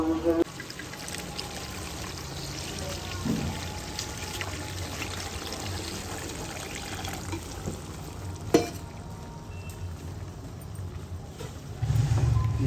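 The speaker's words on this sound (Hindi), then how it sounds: "पानी ऐड कर दिया" Water pours into a pot of fish curry to make a thin broth, a soft steady trickle under quiet background noise with a brief clatter partway through.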